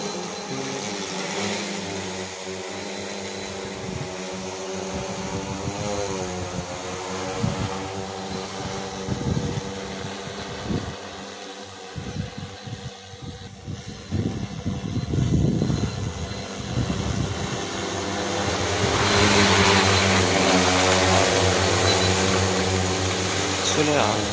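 An agricultural drone spraying pesticide over a crop field near Ponnur gives a steady, close rotor buzz throughout, with voices talking over it at times.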